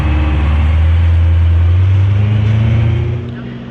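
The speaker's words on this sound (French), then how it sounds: "Le V8 atmosphérique du M3 E92 qui est représenté par la team Lupos." A naturally aspirated V8 in a BMW M3 E92 on a track day at the Dijon-Prenois circuit drones loud and close, pitch climbing briefly before fading away near the end.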